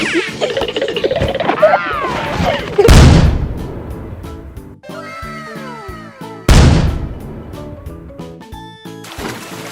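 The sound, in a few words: baking soda explosion popping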